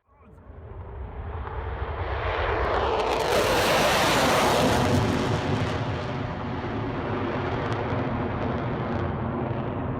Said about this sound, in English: these two fighter jets execute an impressive unrestricted climb.